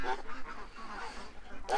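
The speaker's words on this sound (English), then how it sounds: "I'm starting to hear the different voices in the geese" Geese honking at dusk while being herded in for the night, a couple of short nasal honks at the start and end with a person talking in between over faint background noise.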